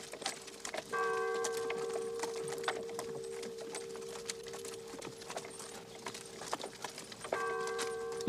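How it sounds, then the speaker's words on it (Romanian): Church bells ring in a film scene while horse hooves clip-clop, the sustained bell tones swelling early and again at the end over a steady patter of hoofbeats. "De ce trag clopotele, domnule?"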